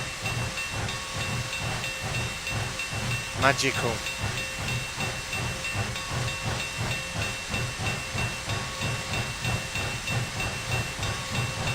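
A Big Boy steam locomotive on Sherman Hill gives off a steady, loud hiss of steam with rhythmic chuffing pulses throughout, a brief sharp burst near the middle, and a short spoken word over it.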